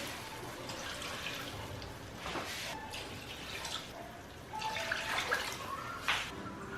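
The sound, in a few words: water being added to a cooking pot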